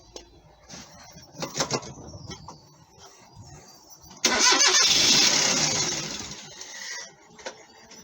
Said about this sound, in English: we're going to start the car up, see if it works